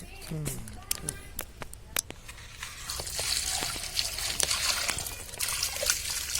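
Water poured onto the soil of a potted jasmine plant, trickling and splashing steadily with scattered drips, the flow growing louder and denser toward the end while a person talks over it.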